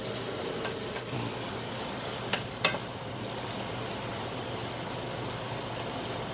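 Bok choy and shiitake mushrooms stir-frying in a pan, a continuous close sizzle with a couple of sharp clicks from stirring, steady and moderately loud with no talk.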